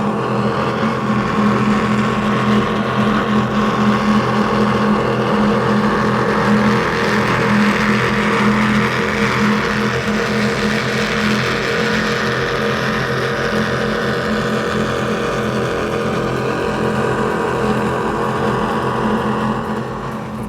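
A Cigarette Top Gun powerboat fitted with 525 engines roars steadily and loudly at close range for about twenty seconds, its deep throbbing drone holding constant and undercut by rushing wind and water while cruising through Biscayne Bay.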